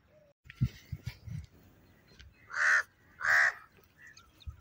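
A crow gives two loud, drawn-out caws in close succession, standing out clearly against a quiet outdoor background with a few faint knocks.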